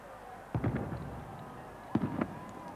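Fireworks burst in the dark over Helsinki's Senate Square and Market Square waterfront at the millennium celebration, two clusters of crackling, booming explosions heard at a distance over a steady crowd murmur.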